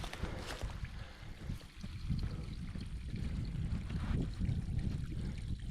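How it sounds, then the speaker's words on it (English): Small stream flowing along a forest hiking trail in Morgan-Monroe State Forest, Indiana, with a little waterfall nearby: a steady, close rushing and trickling wash of water that holds an even level throughout, with no voices. "Show you the stream over here."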